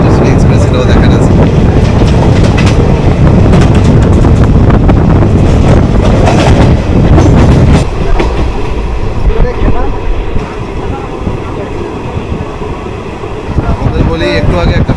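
A passenger train running toward Katwa junction, a loud continuous rumble with heavy wind buffeting close to the microphone, steady throughout with a slight drop in intensity partway through.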